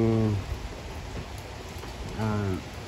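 Rain patters steadily on a garden terrace in Rome while someone speaks briefly at the start and again near the end.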